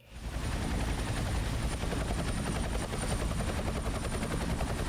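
Loud, close helicopter rotor chop pounds in a fast steady rhythm over a heavy engine roar, continuous throughout.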